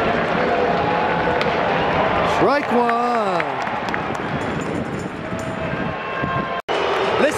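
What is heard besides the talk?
baseball stadium crowd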